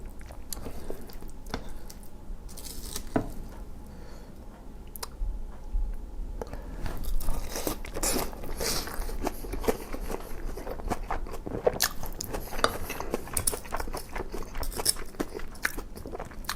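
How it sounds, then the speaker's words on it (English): Close-up biting and chewing of Japanese curry with rice and add-on toppings, wet squishy chews and crunchy bites repeating steadily throughout with soft mouth noises and no talking. "Let me get a good bite with the rice."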